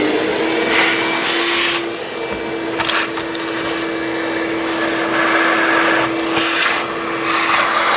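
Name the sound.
vacuum cleaning battery tray of Ford Interceptor Utility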